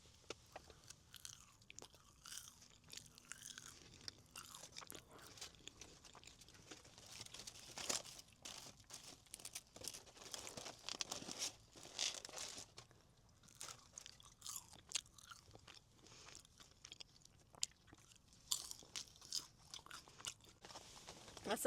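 Crunchy fries from a Korean fried chicken meal are bitten and chewed close to the mic, with irregular crisp crunches and chewing noises continuing for about twenty seconds without talk.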